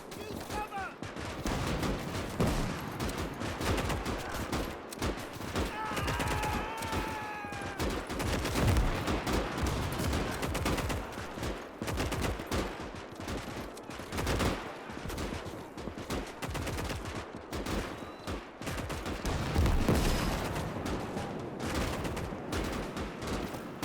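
Heavy gunfire pours onto advancing infantry in the Winds of Iron 1920+ mod, a dense, nonstop crackle of rifle and machine-gun bursts with occasional deeper thuds, loud and close, with voices heard faintly at times.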